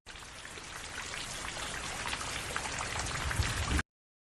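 Dense rain falling steadily on a surface, a continuous close hiss of many drops with no pauses and no voices, cutting off abruptly after under four seconds.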